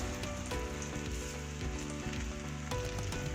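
Sweet potato pieces fry in a little oil in a kadai with a close, continuous crackling sizzle, dense spattering pops and a few louder spits, heard alone.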